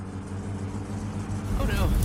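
A Satsuma's engine in a car-repair video game, running badly and failing on a test drive after a new piston and head gasket, gives a continuous rough drone that swells toward the end while someone talks over it.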